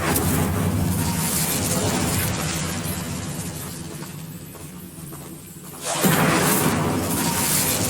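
A fire spell is cast in the Hogwarts Legacy video game: a dense, roaring burst of flame and impact that fills the whole moment, dips slightly, then swells loudly again near the end.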